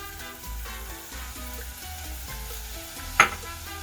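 Raw rice toasts in hot oil in a pan, a steady close sizzle with faint crackling and one sharp clink near the end; nobody speaks.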